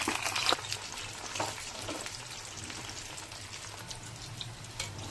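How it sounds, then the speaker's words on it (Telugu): Potatoes for aloo fry sizzle in hot oil during their second frying, giving a continuous crackling hiss with a few louder pops near the start. "సో ఆల్రెడీ ఫ్రై చేసి పక్కన పెట్టుకున్నాం కదా సో వాటిని అయితే డబుల్ ఫ్రై చేసుకోవాలన్నమాట"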